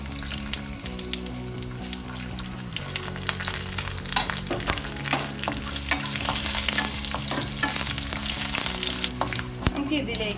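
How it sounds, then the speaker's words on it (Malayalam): Mustard seeds, urad dal and dried red chillies frying in hot oil for semiya-rava upma, a loud, dense continuous sizzle with crackling pops and stirring scrapes throughout. "കടുക് പൊട്ടി വരുമ്പോൾ നമുക്ക് 1 സ്പൂൺ ഉഴുന്ന്, പരിപ്പും വറ്റൽമുളകും ചേർത്ത് കൊടുക്കാം"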